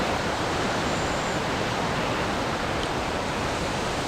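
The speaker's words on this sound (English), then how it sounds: "Now the heavy rain on the north side of Ian's center and the higher winds are approaching." Heavy rain and wind from Hurricane Ian sweep through a dense saw palmetto forest understory, a steady, loud, unbroken broadband wash with no letup.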